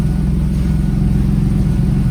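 A 1992 Ford Taurus SHO with a Borla catback exhaust, one pipe into one muffler splitting into twin tips, holds a loud, steady revving engine drone close by, with no talking.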